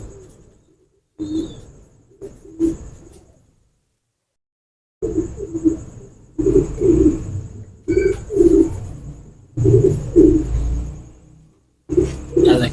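A Teddy pigeon cooing in repeated low throaty bursts, close and fairly loud, separated by short pauses, with a faint high steady hiss running through the background.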